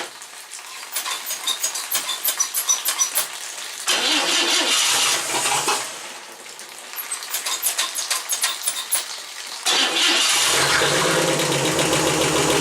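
A car engine cranks slowly and labors to start on a hot day of about 35 degrees, the starter's dragging rhythm repeating in two long bursts with brief steadier stretches between, loud and close with no talking.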